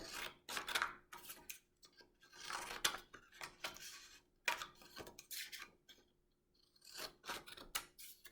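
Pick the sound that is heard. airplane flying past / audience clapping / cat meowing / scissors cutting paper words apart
scissors cutting paper words apart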